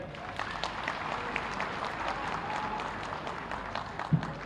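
An outdoor crowd under a pandal applauds the Chief Minister after his speech, a steady, moderately distant wash of clapping that holds evenly throughout.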